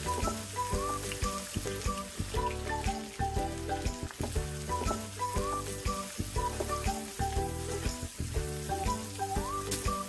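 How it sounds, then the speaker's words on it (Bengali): Chopped onions, about one and a half cups, frying in a generous amount of oil left over from frying fish, making a steady sizzle under loud rhythmic background music. "পেঁয়াজগুলোকে হালকা আমি ভেজে নেব।"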